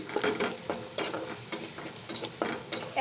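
Onion, garlic and green chilli fry in a pan, with a steady soft sizzle and repeated scraping strokes of a utensil about every half second, close and moderately loud.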